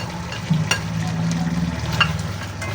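Winged beans and chilies drop into a hot frying pan for chicken feet Bicol Express, giving a soft, crackling sizzle over a low hum, with a few light clatters of stirring.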